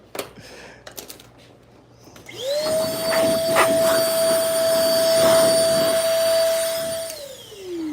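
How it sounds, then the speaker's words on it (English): A studio shop blower switches on after about two seconds and runs as a loud, steady, high whine with a bright tonal pitch for roughly five seconds, then winds down near the end. "It's the studio shop blower."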